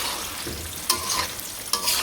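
Vegetables with turmeric are stirred and fried in a pan, giving a steady close sizzle broken by two sharp scraping strokes of the spoon.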